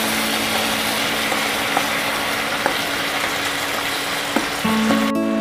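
Mashed eggplant, potato, tomato and spices fry lightly in a pan, a steady close sizzle with faint scattered ticks and a short metallic scrape near the end.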